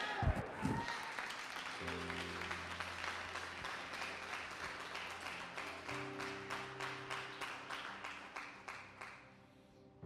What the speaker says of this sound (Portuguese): Você pode aplaudir esse Deus, por favor?